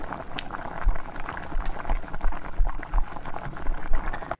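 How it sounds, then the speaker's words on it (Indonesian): A pot of fish stew at a rolling boil, bubbling and popping steadily and close by, with dense irregular blub-blub bursts throughout and no voices. "Kalau sudah mendidih blekutuk seperti ini udah matang semuanya ya teman-teman"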